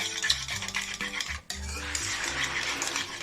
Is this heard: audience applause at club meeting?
no